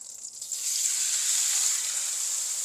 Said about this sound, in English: Now I'm gonna drop in the beef